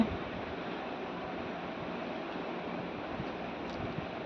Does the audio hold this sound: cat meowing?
no